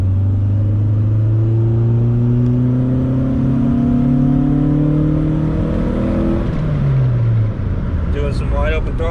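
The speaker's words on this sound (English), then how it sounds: "Doing some wide open throttle pulls." A car engine on a wide open throttle pull during street tuning, revving loud and steady as the pitch climbs through the gear, then easing off near the end.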